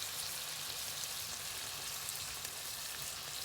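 Shrimp sizzle and fry in a hot pan, a steady hissing crackle that stays even and close throughout with no talking.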